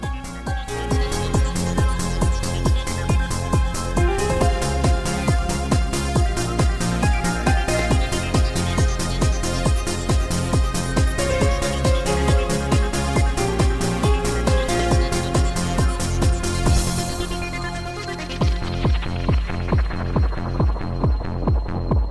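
Driving 1990s trance music with a steady pulsing beat and layered minor-key synth lines; the beat briefly drops out near the end before returning.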